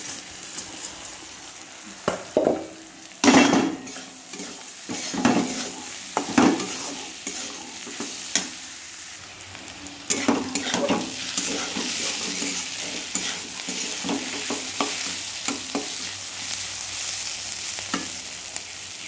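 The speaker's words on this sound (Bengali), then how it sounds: "চাল ডাল খুব সুন্দর লাল লাল করে ভাজা হয়ে যাচ্ছে" Rice and moong dal fry in a pan until reddish with a steady sizzle, broken by repeated scraping stirs and clinks of a spatula, close and fairly loud.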